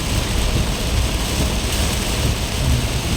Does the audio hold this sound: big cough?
no